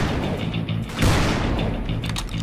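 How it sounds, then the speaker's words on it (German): A heavy gunshot booms about midway through, set among ongoing rumbling game effects, in the Wild West shooter Call of Juarez: Bound in Blood. "Oh, zwei Schüsse, dann ist er auch aus der Distanz weg."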